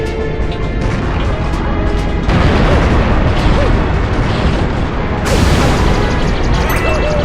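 Banzai Bill in Super Mario Galaxy blows up with loud, heavy booms. Rumbling blasts follow one another, and a bright crash breaks in partway through over game music.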